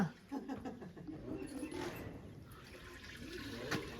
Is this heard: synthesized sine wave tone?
no